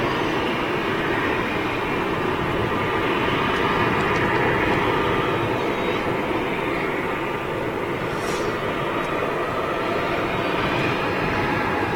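An airliner inbound from Faro rumbles steadily overhead at Manchester Airport, a broad continuous engine roar that holds fairly loud for the whole stretch without any voices.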